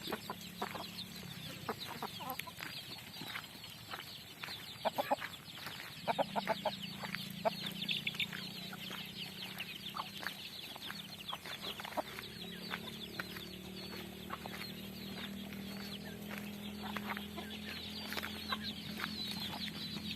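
Several chickens cluck steadily in short, overlapping calls over a constant, rushing background hiss, the flock close by and being called to feed.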